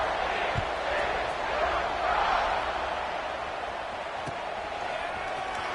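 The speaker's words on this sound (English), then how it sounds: "this crowd is buzzing after that last score" Stadium crowd at a college football game between Florida and TCU keeps up a steady, broad roar that fills the whole stretch, with a commentator's voice running over it.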